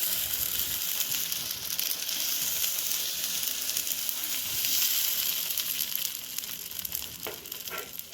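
Thick oats dosa batter spread on a hot pan sizzles steadily and fairly loudly, a continuous bright crackling hiss with a few clicks and scrapes toward the end.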